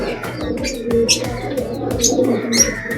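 Katta Mooku homer pigeon, a three-year-old breeding bird in a Pondicherry loft, with soft repeated cooing mixed among other bird chirps and faint background clatter, close and continuous.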